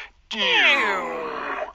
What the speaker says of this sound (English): That is a machine powering down.